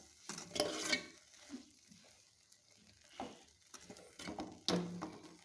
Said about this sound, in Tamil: இப்போ இது எல்லாத்தையும் போட்டு நல்லா மிக்ஸ் பண்ணிக்கோங்க